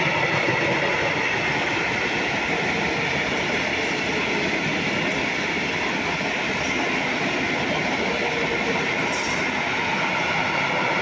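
Steady rumbling of a Berlin S-Bahn commuter train in motion, a continuous roar of wheels on track with faint squeals, heard from inside the carriage without any talk.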